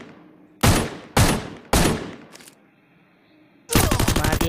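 Desert Eagle pistol fire in the Free Fire mobile game: three loud, sharp shots about half a second apart, a faint fourth, then after a pause a rapid, dense burst of gunfire.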